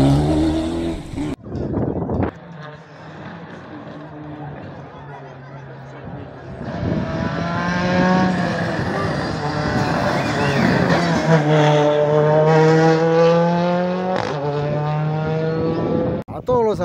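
A rally car on the Caminos del Inca stage in Arequipa approaches and races past close by, its engine revving and climbing through gears in a loud, rising whine, with spectators talking and shouting around it.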